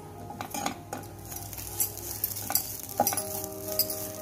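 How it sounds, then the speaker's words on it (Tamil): Grated coconut roasting in a pan, a soft low sizzle under irregular clinks and scrapes of a metal spoon stirring against the pan, close up and fairly quiet. "இப்போ நம்ம தேங்காய் வறுத்துக்கலாம்."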